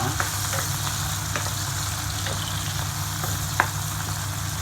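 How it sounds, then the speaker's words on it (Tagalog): Ingredients sizzle in a pan as adobong sitaw (string beans) is stirred. A steady, loud frying hiss runs throughout, with occasional soft clinks of a utensil and no talking. "ilagay na natin yung ating sahog. At i-mix lang natin siya."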